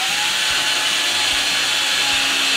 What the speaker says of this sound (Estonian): puurime siia augu